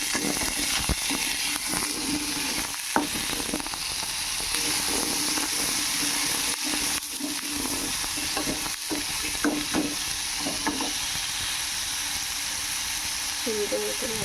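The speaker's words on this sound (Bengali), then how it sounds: "সুন্দর মতো আলুটা ভেজে নেব।" Potatoes frying in hot oil in a wok, with a steady loud sizzle throughout and repeated scraping and clinking as they are stirred, with a voice talking over the cooking.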